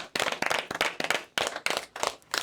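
A close round of clapping from a few people, with sharp, uneven hand claps bunched in quick bursts and short gaps, loud and without talk.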